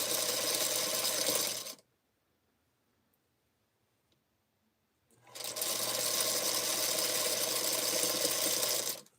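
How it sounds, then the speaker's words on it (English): Sewing machine stitching two fabric hearts together for a sweetheart pillow block, running in a steady even whir for almost two seconds, stopping for a quiet pause of about three seconds, then starting up again loud and close. "Sewing my little hearts together."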